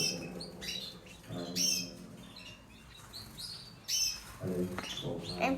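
A young pet canary in a cage chirps in quick, bright bursts, repeated several times at close range over a faint background.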